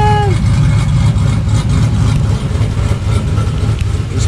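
A 2002 Chevy Suburban engine idles with an open exhaust cutout, deep and rumbling with a lumpy, throaty exhaust note, loud and close, with no voices.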